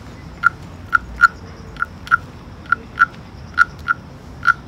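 A wooden frog guiro is scraped along its ridged back, producing a string of about a dozen short, hollow, croak-like clicks at an uneven pace, clear and close with no talking.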